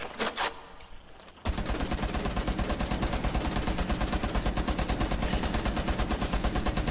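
Sustained automatic gunfire in Rainbow Six Siege, aimed low at a shield, a rapid, steady stream of loud shots running almost continuously after a short quieter lead-in.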